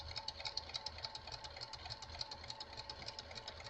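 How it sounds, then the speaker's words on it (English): A sewing machine stitching around a fabric pocket roughly ten inches square, with a fast, steady mechanical whir and rhythmic needle clatter heard up close, fairly quiet, without speech. "Now I'm going to stitch around."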